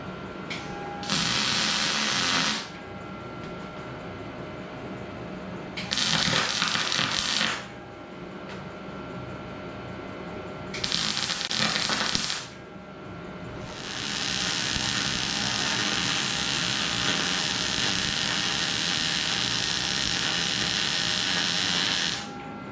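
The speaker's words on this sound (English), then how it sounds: "Get this baby tacked down, welded up." Steel parts of a DIY gym equipment holder being tacked and welded; three short buzzing, crackling bursts separated by quiet gaps, then a longer continuous weld run, close and loud with no talking.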